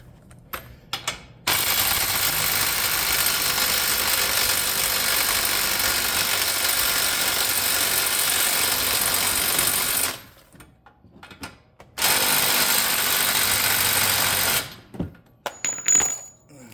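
Power ratchet spinning out loosened wheel hub bolts on a 2018-2021 Chevrolet Equinox, two sustained loud whirring bursts of about eight and three seconds with brief pauses and clicks between, no talking.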